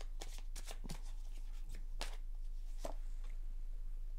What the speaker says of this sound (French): Je vais essayer de tirer une autre carte là pour la simulation.